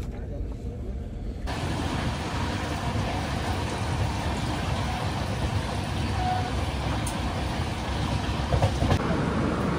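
The Himgiri Express pulls into a station on the Kolkata–Varanasi route, a dense, continuous rumble of wheels and carriage noise filling the whole stretch, loud and steady, with a voice talking over it.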